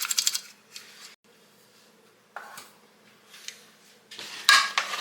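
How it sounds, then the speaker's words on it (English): Spoon stirring Butterfinger fudge mixture of crushed Butterfinger minis in a pan, a few sharp scraping clinks and knocks in separate bursts with quiet gaps between, close by. "You want to get this all mixed up, stirred in and combined."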